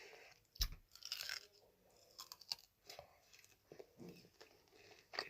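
Crunchy Dubai chocolate being bitten and chewed close to the mic, a sharp bite snap followed by soft, irregular crunching and chewing sounds.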